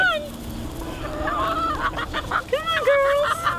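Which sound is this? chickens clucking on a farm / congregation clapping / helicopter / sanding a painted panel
chickens clucking on a farm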